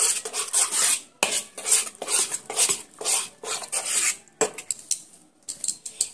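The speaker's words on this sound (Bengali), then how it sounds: "বেসনটা দিয়ে আমি সুন্দর করে ঘিয়ের সঙ্গে এইভাবে নেড়ে চেড়ে নিচ্ছি।" Gram flour batter is stirred in ghee in a pan, producing rhythmic scraping and rubbing strokes of a utensil against metal, repeated close up with short pauses between them.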